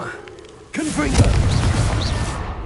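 The Confringo blasting spell explodes in a Harry Potter wizarding video game, a loud boom with a rumbling, crackling tail that lasts a couple of seconds and follows a brief quiet moment.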